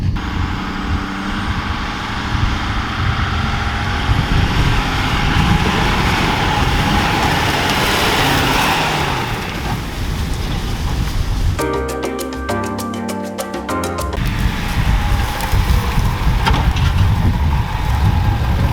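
Ford 6.7 Powerstroke diesel pickups, a 2017 and a 2020, on a test run, with a steady loud engine drone and roar throughout and a brief stuttering, pulsing interruption partway through.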